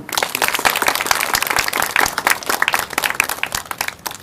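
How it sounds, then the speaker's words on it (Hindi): An audience at a spiritual session claps in applause, a lively mix of many individual sharp claps that rises and falls unevenly, close and fairly loud. "उनको लेकर पर तालियां बजाएंगे"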